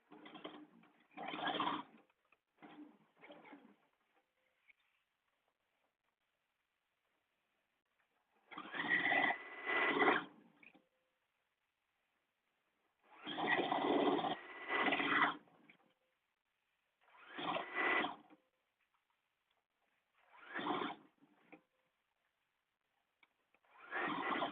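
A sewing machine back-stitches a blouse seam on cute fabric in a series of short separate bursts, each a quick whirring run of a second or two, with silent gaps between.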